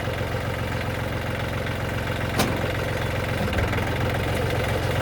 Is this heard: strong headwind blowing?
no